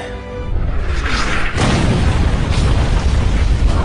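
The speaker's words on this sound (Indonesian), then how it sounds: "Ia kemudian bergegas memberikan bantuan dengan menembakkan meriam ke arah perahu yang bermuatan bahan peledak" A loud, close cannon blast strikes a boat loaded with explosives in a naval battle of Yi Sun-shin's fleet, with a heavy boom swelling into a continuous rolling explosion rumble.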